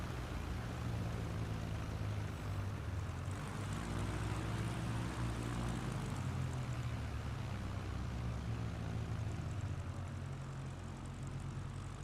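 Propeller aircraft idling and taxiing in Microsoft Flight Simulator during an Oregon Trail eSTOL competition, a steady low engine drone with a slowly shifting pitch, continuous and fairly close throughout.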